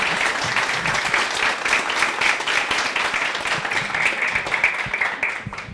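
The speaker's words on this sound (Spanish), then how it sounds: "Y pues un aplauso por favor a Raimundo, por favor." Sustained applause from a PHP community meetup audience, many hands clapping close and dense for several seconds without a break.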